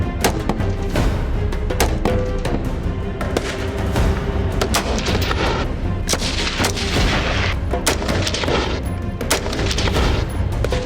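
Firearms fired on a military training range, with a dense barrage of loud overlapping gunshots and booming reports going off continuously, some in rapid bursts, with no talking.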